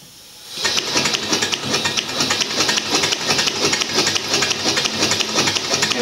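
A small model marine steam engine runs steadily on compressed air, giving a fast, even chuff and hiss that starts abruptly after a brief quiet moment and holds close and loud throughout.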